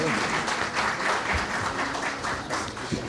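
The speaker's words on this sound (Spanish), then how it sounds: "despedimos con un aplauso a las y los integrantes del Presidium" Crowd at the inaugural session of a civic participation forum applauding the departing presidium, a continuous broad spread of many clapping hands at steady volume, with a few faint voices and bumps mixed in.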